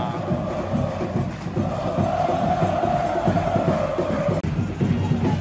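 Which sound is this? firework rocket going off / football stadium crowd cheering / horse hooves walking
football stadium crowd cheering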